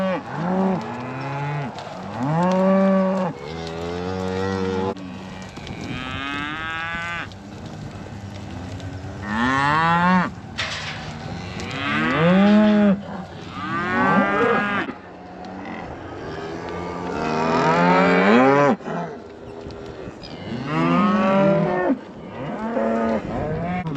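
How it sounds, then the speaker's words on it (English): Mother beef cows moo loudly and repeatedly on the first day of calf weaning, long drawn-out bellows overlapping from several animals near and farther off, with no talk. "Now we can let mama cows back in here."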